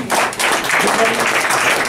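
A small crowd at a university reading series gives a round of applause for the baristas behind the counter, a close, fairly loud burst of clapping with some vocal noise mixed in throughout.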